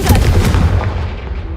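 Confringo blasting spell exploding in Hogwarts Legacy: a loud, close, booming burst with a rumbling tail that fades out over about a second and a half.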